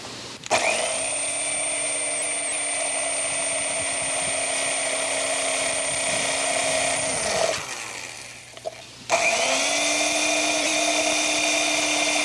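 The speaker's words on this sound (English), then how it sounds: "So we drill on each of the 4 squares." A power drill bores holes into a turtle shell, running at a loud, steady high-pitched whine for several seconds, stopping briefly with a few small clicks, then revving up again, with no talking.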